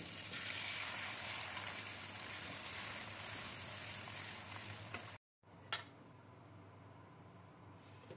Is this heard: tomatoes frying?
yes